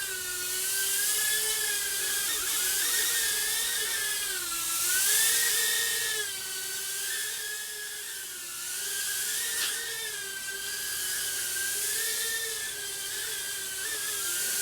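A NIHUI NH-010 micro FPV racing drone flies close by with a high, whining buzz of tiny propellers that rises and falls in pitch as it maneuvers, continuous and fairly loud throughout, with no talking.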